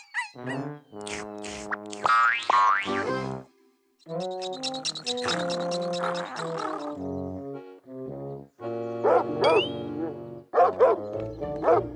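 A voice imitates a cartoon watchdog at a campsite, giving a string of loud, tonal barks, yips and whimpers in separate bursts with brief pauses between them.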